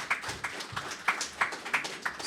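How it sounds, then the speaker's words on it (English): Scattered applause from a small audience at a live event, individual claps distinct with a few sharper hand strikes, fairly close and modest in volume. "Give John a round of applause."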